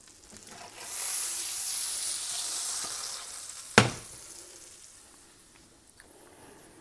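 Bread for Toast Skagen lands in a hot pan and sizzles, a loud hissing fry that swells after a second, then a sharp clatter of the pan or utensil, after which the sizzle gradually fades.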